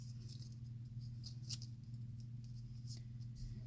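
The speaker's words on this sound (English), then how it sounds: "I'm just going to take my scissors and trim it" Scissors snip while trimming a homemade tea bag sachet, giving a few sharp, close clicks over a steady low hum, with no voices.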